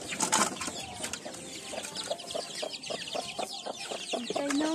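Chickens clucking near a coop, a series of short repeated clucks in an uneven rhythm at close range, with an earlier burst of louder squawking and a rising call at the end.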